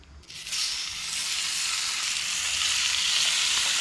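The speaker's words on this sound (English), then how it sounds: "I'll put that in the cooked bacon pan and throw in another batch" Strips of bacon sizzle and crackle in a frying pan at a late-fall campsite, a loud, steady, dense hiss that swells in the first half second and then holds evenly throughout.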